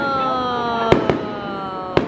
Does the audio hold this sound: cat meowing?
no